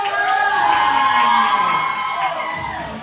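Guests at a combined first and 65th birthday party shout and cheer together in a loud, sustained roar, with children's shrill yells rising through the crowd noise.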